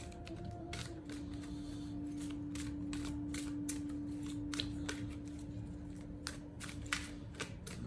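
Oracle cards being shuffled and pulled, rapid crisp card flicks and snaps in a quick irregular rhythm over a low steady room hum.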